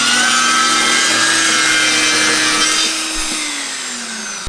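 Power saw cutting 4-inch wood strips, a loud, steady high-pitched whine and rasp that holds for several seconds, then gradually eases in pitch and level as the cut finishes.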